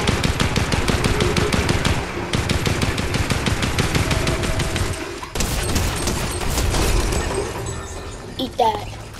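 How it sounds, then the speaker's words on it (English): Rapid automatic gunfire in Fortnite, loud and near, firing in long sustained bursts with a short break midway, followed by more shots and impact cracks, while a player talks over the action. "I hear guns."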